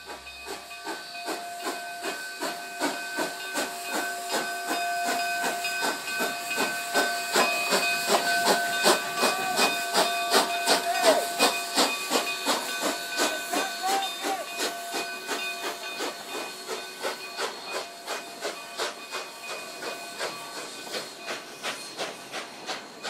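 A Cumbres and Toltec narrow gauge steam locomotive hissing steam in rhythmic pulses, strong and steady, swelling in the middle and easing toward the end, heard alone.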